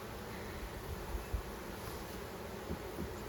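Honey bees humming steadily around an oddly built beehive, a soft, continuous outdoor drone with faint wind and a few light knocks.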